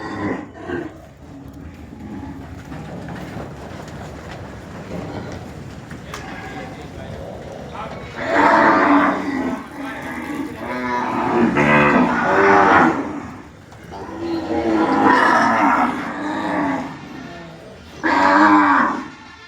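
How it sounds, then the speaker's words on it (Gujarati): Cattle on a farm let out several long, loud moos, some overlapping, while people talk nearby. "કઈ ગાય હે મનસુખભાઈ?"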